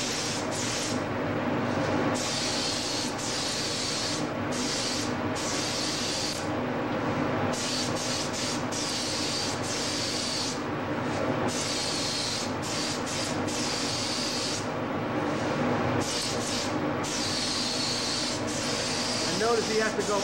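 A spray gun applies a coating to a prosthetic foot in repeated on-off bursts of hissing spray, each lasting a second or two, close and fairly loud throughout.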